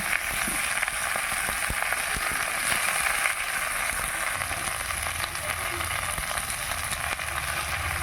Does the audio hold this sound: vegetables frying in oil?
yes